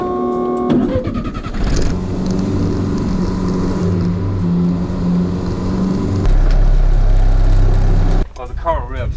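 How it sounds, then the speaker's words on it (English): Radical SR3 race car with a triple-turbo TDI diesel engine and PDK transmission at Pikes Peak, revving hard through steady high-pitched engine tones that shift in pitch, with a voice briefly heard at the end. "Oh, the car revs like so good."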